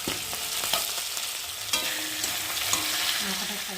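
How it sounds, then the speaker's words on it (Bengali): Pieces of rui fish, including the head and tail, fry in oil on a flat tawa pan, giving a loud, continuous sizzle with a few sharp scrapes of stirring and no talking. "দেখো একে একে সব মাছগুলো ভাজা হয়ে গেছে"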